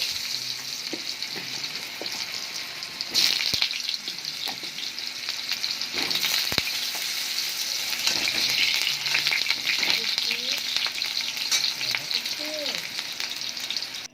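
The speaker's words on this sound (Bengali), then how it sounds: "তেলটা ভালোভাবে গরম হয়ে গেলে কেটে রাখা আলুগুলো ভেজে নেব।" Potatoes frying in hot mustard oil in a kadai, cooking for a pressure-cooker khichuri, give a steady loud sizzle and crackle throughout, with a few sharper pops and brief stirring scrapes, and no talking.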